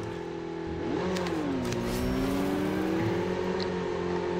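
Motorcycle engine in the Call of Duty Mobile battle royale, revving up and holding a rising, steady whine, loud and continuous with no talking.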